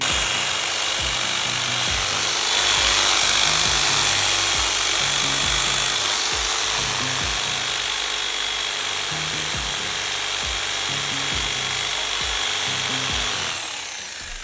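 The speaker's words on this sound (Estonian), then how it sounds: "proovisime noaga, proovisime saega" Repeated back-and-forth strokes of a hand saw cutting wood, steady and rhythmic, close by, with no talking.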